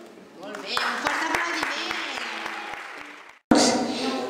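Audience applause rings out at a Sant Jordi 2018 award ceremony, a steady wash of clapping with sharp individual claps, then a brief cut and a louder burst of clapping mixed with voices.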